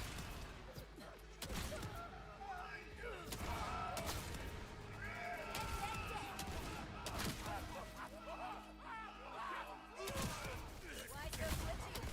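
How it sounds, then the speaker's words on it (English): The Walking Dead shotgun in a video game fires repeatedly in dense, rapid blasts with no pause for reloading, loud and continuous across the whole stretch. "This is just the Walking Dead shotgun. Just infinite rounds, never have to reload."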